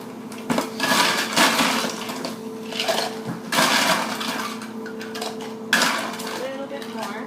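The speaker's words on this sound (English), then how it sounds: "The next thing I want to do is add about 1/2 cup of ice." Ice cubes are dropped into a cup for an iced caramel macchiato in several clattering bursts, loud rattling tumbles separated by short pauses, with a faint low hum underneath.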